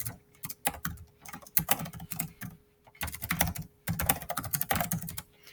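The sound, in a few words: typing an email address on a computer keyboard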